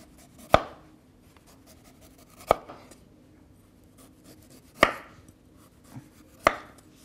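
A knife chops celery root on a cutting board in four sharp, isolated strokes spaced a couple of seconds apart, close and clear in a quiet kitchen.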